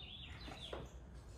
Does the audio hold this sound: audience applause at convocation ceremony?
no